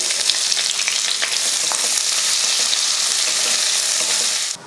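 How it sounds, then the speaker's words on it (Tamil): Two large onions with cinnamon sticks, cardamom, cloves, star anise and a bay leaf sautéing in hot oil for a mutton curry, giving a steady, close, loud sizzle with occasional stirring scrapes, no voices. "நல்லா வதக்கினதும் ரெண்டு பெரிய வெங்காயம்"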